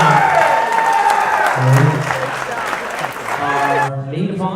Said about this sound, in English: how about a big round of applause for our father